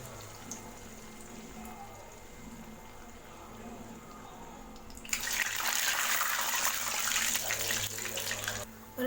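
Urad dal vada batter goes into hot oil for frying. After a quiet start, a loud, dense sizzle and crackle bursts in halfway through and keeps bubbling steadily to the end.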